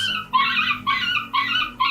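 A dog near German Shepherd puppies gives a run of four high, whining yips and howls in a steady rhythm, close and loud with nothing else heard.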